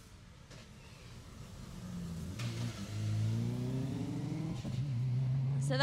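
Subaru Impreza rally car approaching on a Jersey rally stage, engine growing louder with rising revs and gear changes, a strained throaty drone building as it nears and passes.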